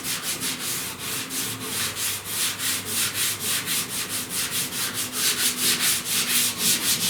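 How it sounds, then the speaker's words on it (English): Hand sanding the upper cowl panel of a 1969 C10 truck, a rhythmic back-and-forth scratchy rasp repeating about three times per second, close and steady with no talk. "All that's got to be sanded and sand with the panel."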